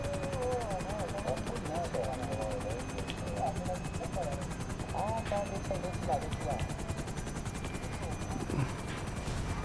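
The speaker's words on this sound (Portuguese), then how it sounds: "Não, mas tá vendo aquele helicóptero ali, ó?" Helicopter in Grand Theft Auto V keeps up a steady rotor drone with a rapid beating pulse, while people talk over it almost the whole time.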